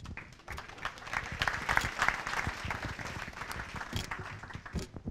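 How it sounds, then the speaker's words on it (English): A conference audience applauds as the SurveyMonkey CEO is welcomed on stage, with dense steady clapping filling the whole stretch at moderate volume. "Big round of applause."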